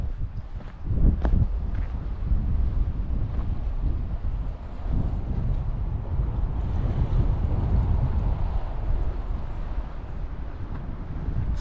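Wind blows hard along a rocky shoreline of San Juan Island in the Salish Sea, a steady rushing roar with gusty swells and faint surf beneath.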